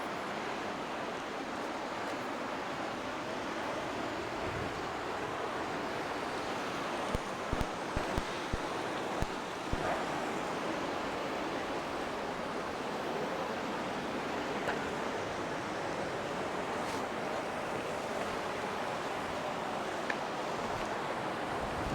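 Waterfall and flowing river water at a secret waterfall in a peace park, a steady broadband rush of falling and running water that holds evenly throughout without any talk.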